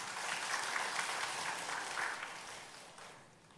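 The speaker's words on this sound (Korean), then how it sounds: "우리 성경 보독에 수고해준 송황석 어린이에게 격려의 박수 하겠습니다." A church congregation applauds a child who has just read scripture, a soft, diffuse wash of many hands clapping together, steady and then tapering off toward the end, with no one speaking.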